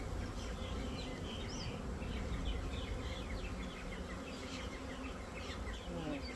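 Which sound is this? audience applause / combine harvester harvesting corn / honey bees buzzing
honey bees buzzing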